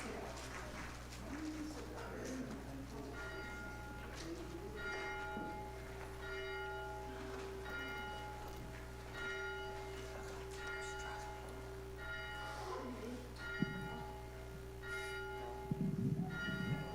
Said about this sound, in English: We will begin our service with the ringing of the bell